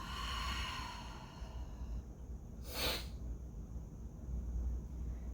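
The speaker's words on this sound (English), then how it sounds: "Exhaling through the mouth." A single breath exhaled through the mouth during a slow-flow breathing exercise, a brief airy whoosh near the middle, close and soft over a quiet room hum.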